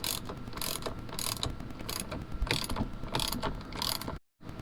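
A ratchet clicks rapidly and steadily, close up, as it tightens the steering wheel nut on a Lamborghini after a shift paddle install, with brief louder bursts and one short pause near the end.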